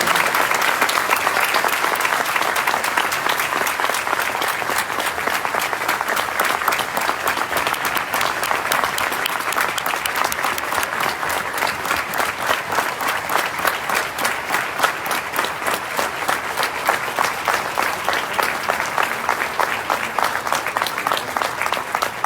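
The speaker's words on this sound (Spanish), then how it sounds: "Y por eso es que te damos este gran aplauso" Prolonged audience applause at a live broadcast event about men against violence, many hands clapping in a continuous, even roar that holds for over twenty seconds without talk.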